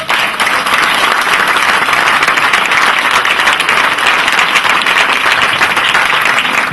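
A theatre audience applauds Robert Hossein in Valenciennes, a loud, dense and unbroken wash of clapping that holds at the same strength throughout.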